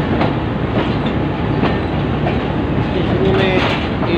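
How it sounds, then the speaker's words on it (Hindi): Shalimar Express passenger train (27Up) pulling out of Karachi Cantt railway station, bound for Lahore: a loud, steady rumble of rolling carriages with rhythmic wheel clatter throughout, plus a brief higher squeal near the end. "शालीमार एक्सप्रेस जो कि कराची कैंट रेलवे स्टेशन से इस वक्त अपने सफ़र की जानेब चल चुकी है"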